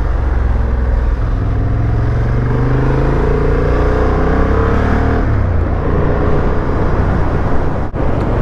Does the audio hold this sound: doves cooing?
no